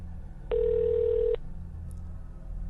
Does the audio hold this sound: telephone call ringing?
yes